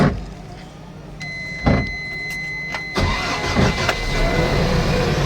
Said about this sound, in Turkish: motorumuz çalıştı